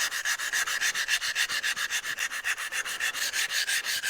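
Hand sanding a Wilton Bullet bench vise: a brisk, even run of about two dozen rasping back-and-forth strokes, close and dry, with no voices.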